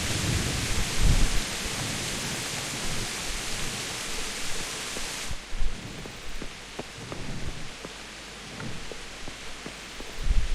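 A stormy night in the video game Kingdom Come: Deliverance: a loud, continuous wash of heavy rain with deep thunder rumbling underneath. The rain eases slightly partway through, and a few soft knocks sit in the background.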